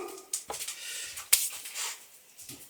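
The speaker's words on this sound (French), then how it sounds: "Et ça, c'est le chien qui me rappelle à l'ordre." A dog whimpers and lets out a few short yips, faint and intermittent with sharp brief bursts and soft breathy noise between them.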